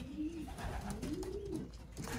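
Racing pigeon cooing softly nearby, a few low rolling coos repeated over a faint background hum.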